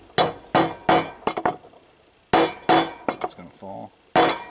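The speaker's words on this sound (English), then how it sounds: "I'm going to actually go with nailing this guy here." Nails driven into a joist hanger on an off-grid cabin build: sharp metallic hammer strikes in quick bursts of three or four blows, close and loud, separated by short pauses.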